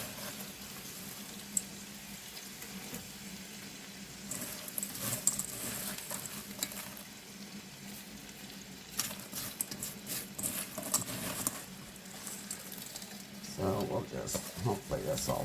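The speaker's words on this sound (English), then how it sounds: "I'm just gonna fry it for a little bit" Frozen homemade dog food ingredients frying in a pan, a soft patter and sizzle with occasional stirring clatter, close by, rising in bursts, with a voice talking briefly.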